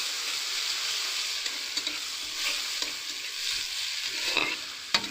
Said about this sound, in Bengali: যাতে রসুনের না গন্ধটা আসে সেই জন্য ভালো করে একটু রসুনটা ভেজে নেব।